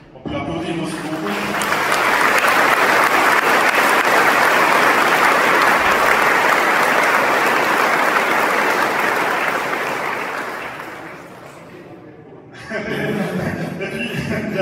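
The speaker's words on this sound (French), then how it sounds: "On peut l'applaudir aussi beaucoup." Audience at a public event honouring astronauts in Tramelan breaks into loud, sustained applause for about ten seconds, fading before a speaker resumes talking.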